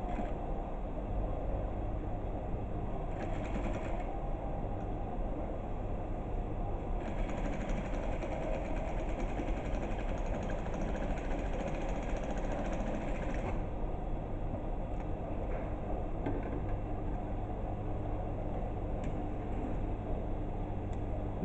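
A sewing machine stitching fabric runs as a steady continuous mechanical hum with a fast whirring drone, holding at one level throughout with a slightly brighter stretch in the middle.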